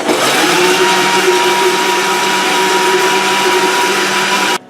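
A blender making a green smoothie whirs loudly and steadily at close range for several seconds, then cuts off abruptly. No voices.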